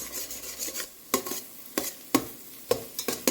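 Lima beans sautéing in a pan, a low background sizzle punctuated by sharp irregular scrapes and knocks of a spoon stirring against the pan, loud and close with no speech.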